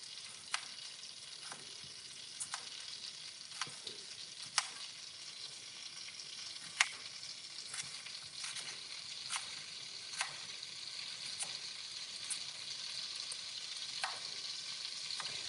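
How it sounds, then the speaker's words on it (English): Steady, faint sizzling and crackling of fish frying in butter in a pan, with occasional sharp pops and ticks throughout. "I'm going to start by pan frying our fish"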